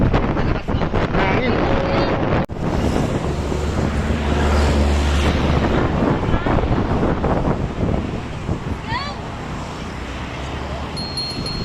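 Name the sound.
wind blowing on a bike ride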